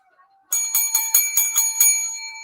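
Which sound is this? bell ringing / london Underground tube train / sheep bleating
bell ringing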